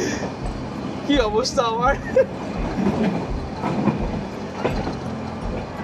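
A Nilgiri Mountain Railway train runs among tea gardens with a steady rumble and faint clicking, while someone talks briefly over it near the start.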